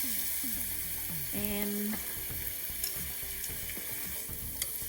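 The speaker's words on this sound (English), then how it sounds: "And now I add my broth" Broth poured into a hot pot of red wine reduction for a Viet-Cajun crawfish boil sets off a loud, steady sizzle and bubbling, with a spoken word at the start and a few clinks of utensils.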